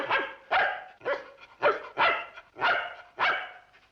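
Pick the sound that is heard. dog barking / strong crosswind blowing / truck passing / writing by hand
dog barking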